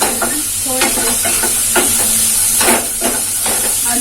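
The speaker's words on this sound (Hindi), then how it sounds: "तो मेरे चने भी फ्राई हो चुके हैं।" Chickpeas fry in a pan with a steady close sizzle and hiss, broken by repeated scraping clinks of a spoon stirring them, loud and continuous with no talking.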